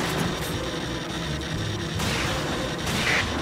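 Shotgun blasts and explosive gunfire in the arcade shooter Time Crisis 4, dense overlapping booms and crashes with heavier bursts near two seconds and near the end, loud and continuous.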